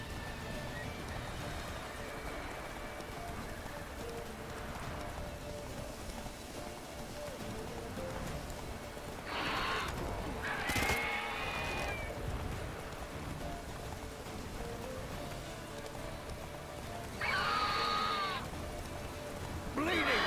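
Roach the horse galloping through a fight with a Royal Griffin in The Witcher 3, quiet hoof patter under game combat sounds, with short bright whinny-like calls standing out twice.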